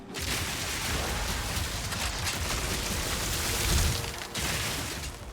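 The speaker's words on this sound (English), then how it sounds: "It's just getting blasted by 6 different ice explosions" Six overlapping ice explosions from the video game Path of Exile, a dense, roaring wash of crackling blasts that swells into a heavy boom near the end, briefly drops out, then resumes.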